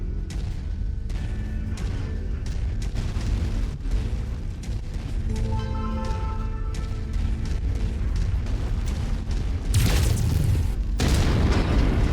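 Mech weapons firing with booming explosions in the MechWarrior 5 video game, a dense run of heavy blasts and bursts that grows louder and harsher near the end, with no talking.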